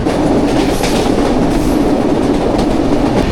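The Kapotaksha Express, a Bangladeshi passenger train heading toward Alamdanga, runs on rails with a loud, steady rumble and rhythmic clickety-clack of wheels over the joints, heard close from on board with no talk.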